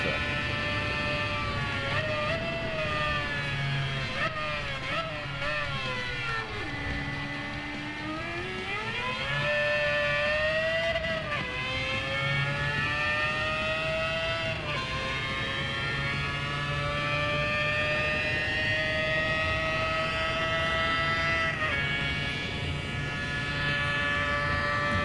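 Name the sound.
car engine over-revving in video game Gran Turismo 7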